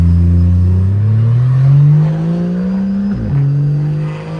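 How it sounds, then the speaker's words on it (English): A loud car engine, driven with no oil, roars steadily, its pitch climbing as it accelerates, then dropping sharply with a brief shift before settling into a steady drone. "You guys just need to hear this car in person because damn, this thing is so loud."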